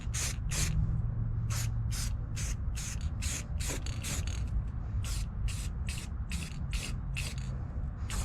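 Repeated short hisses of an aerosol spray paint can in bursts, covering rust repair on a 1994 Flxible Metro D transit bus, with about a dozen spurts over a low steady background hum.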